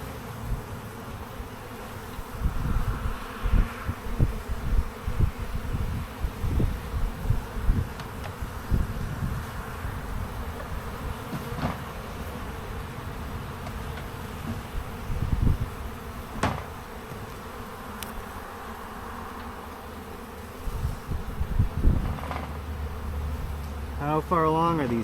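Honeybees drone at a hive brood nest that is about to swarm, a steady close buzz that carries through the whole stretch, with scattered knocks and handling noises.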